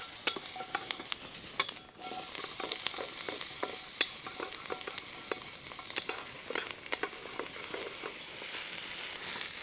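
Chilies and garlic sizzle and crackle in hot oil in a wok over an outdoor bushcraft fire, with steady frying hiss and frequent sharp pops and spatters close by.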